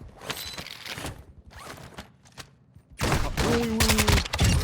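Gunfire in the Call of Duty Modern Warfare II DMZ mode: scattered shots early on, then a loud sustained burst of automatic fire in the second half, close and dense.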